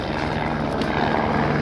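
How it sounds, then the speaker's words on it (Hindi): A helicopter drones overhead at Kedarnath, near snowy peaks, with a steady, dense rotor thrum, loud and continuous throughout, no voices. "ये हेलीकॉप्टर जा रहा है यहाँ से।"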